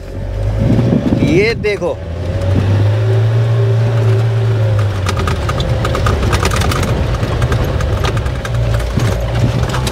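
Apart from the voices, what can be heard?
Mahindra Thar driving in first gear in desert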